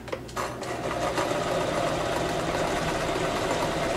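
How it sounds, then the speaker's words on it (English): A sewing machine runs steadily as it stitches a seam on a homemade puppet, a close, even, continuous mechanical whir with no speech. "So I'm going to go ahead and sew that all the way down there."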